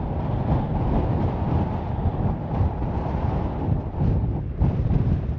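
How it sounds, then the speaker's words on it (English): Wind gusts on a hilltop in the Yorkshire Dales rumble steadily across the microphone, a low, blustery roar that swells and eases, with no voices. "It's pretty windy."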